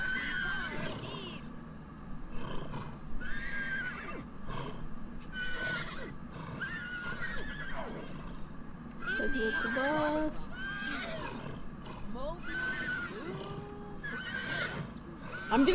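Horses in The Sims 3 video game whinny and neigh repeatedly in bursts, with soft hoof clops and a speaking voice over the game sounds.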